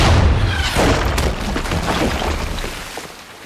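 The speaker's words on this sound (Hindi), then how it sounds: "पीजा, मलिका साहिबा को सलामी देने के लिए तोप चलाओ" A ship's cannon fires a salute for a queen, a loud deep boom at the start that rolls off into a long fading rumble with no talk over it.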